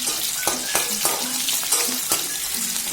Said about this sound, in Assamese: আৰু মই সেই একেখিনি তেলতে ভাজি লৈছোঁ।